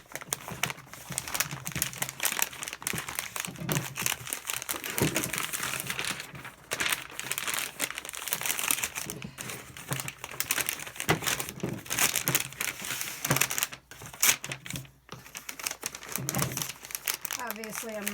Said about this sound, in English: we'll just kind of do a quick wrap here. This is a freezer butcher paper